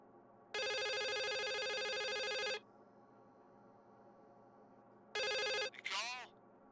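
A telephone in The Suicide of Rachel Foster video game rings loud and close with a long continuous trill, goes quiet, then rings again briefly before a voice cuts in.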